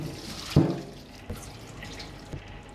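Cooked rice noodles being drained in a sink, with a brief splash of water followed by a few faint drips and trickles nearby.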